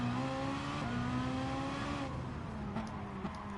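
Drag race car accelerating hard in Gran Turismo Sport on a quarter-mile strip, a steady engine roar with rising harmonic tones, fairly faint and continuous with a slight drop partway through.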